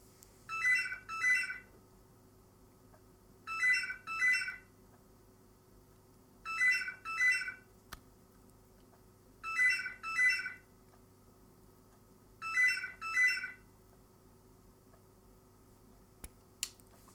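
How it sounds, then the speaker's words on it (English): A telephone ringing in five evenly spaced double bursts, an electronic trill repeating every few seconds over a quiet background hum during a snooker match broadcast. "And that's the phone."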